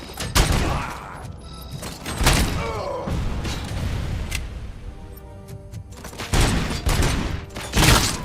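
Gunfire in the RoboCop video game comes in loud bursts of shots and thuds separated by quieter gaps, with mechanical clanks between volleys.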